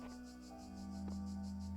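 Crickets chirp in a pulsing, rapid rhythm in the video game The Talos Principle, a faint steady background with low hum beneath and no talk.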